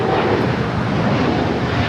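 A Dreamliner jet airliner at LAX roars with a loud, steady, broadband engine rumble that fills the whole moment without a break.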